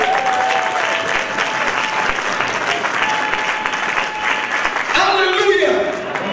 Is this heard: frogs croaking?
no